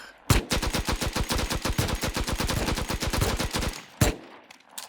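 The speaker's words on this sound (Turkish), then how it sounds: "Tek tek sıkıyorum ben." An automatic weapon fires a long rapid burst in the survival game Rust, loud and close with evenly spaced shots, then a brief pause and one last single shot.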